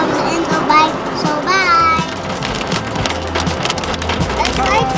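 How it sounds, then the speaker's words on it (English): Rain mixed with ice pelting down outdoors in Dubai, a steady dense patter heard up close while children shout and talk over it. "Yeah, it's raining ice."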